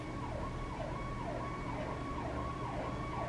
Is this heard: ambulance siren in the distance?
yes